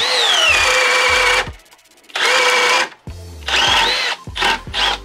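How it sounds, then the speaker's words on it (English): A Milwaukee M12 Gen 2 hammer drill on speed 2 drives a 3/4 inch Diablo Speed Demon bit into pressure-treated 2x8, giving three loud whining bursts of boring that bog and cut out, with brief pauses between and short spurts at the end. "We are gonna start with a 3/4 inch Diablo Speed Demon, and we are going back up into speed 2 with the Gen 2."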